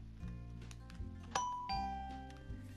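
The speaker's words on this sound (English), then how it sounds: "So the gold blocks give us this nice sounding bell." Minecraft note block on a gold block ringing bell-like chimes, a clear two-tone doorbell ding-dong that rings out twice over a steady low in-game tone, close and clean with no voices.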